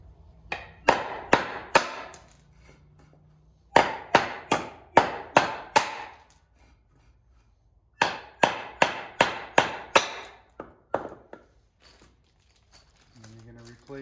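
Sharp metallic hammer blows drive studs out of a 2012 VW Touareg suspension part, landing in quick clusters of ringing strikes with pauses between sets and brief talk at the end.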